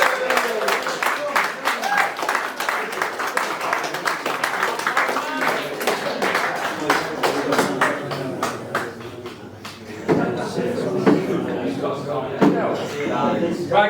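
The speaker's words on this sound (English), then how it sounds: "let's have a big cheer please for Tom" Audience at a football club end-of-season presentation night applauding and cheering for a striker named Tom, a dense run of claps and shouts that holds steady, then swells again toward the end.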